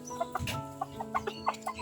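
Hens clucking softly in a backyard flock while one lays an egg, with short repeated clucks scattered across a quiet moment, close but faint.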